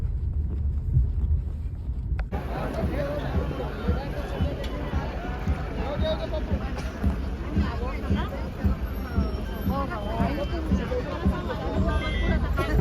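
A dense, packed crowd at the Rangpanchami celebration of the Nath tradition at Mayamba and Madhi, 2025, makes a continuous close babble of many voices. Wind buffets the microphone, and the sound stays steady and loud throughout.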